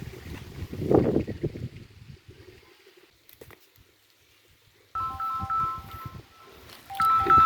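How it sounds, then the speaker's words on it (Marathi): A phone rings outdoors near a tree, its electronic ringtone chirping in repeated short beeping bursts after some rustling and handling noise, moderately loud and close. "फोन आला"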